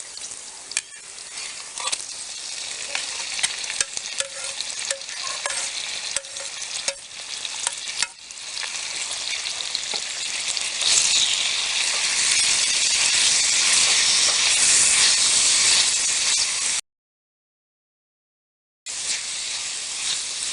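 Pork and its fat cooking in a pan for Cebu-style pancit bami, a steady loud sizzle and frying hiss with intermittent stirring and scraping, running continuously with a brief gap near the end.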